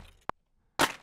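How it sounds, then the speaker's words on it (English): Snare and clap drum samples from a beat play together, giving one sharp crack followed by a fuller, noisy clap-like hit a half second later, dry and close. "this is mainly like the snares and the claps all together sound like this"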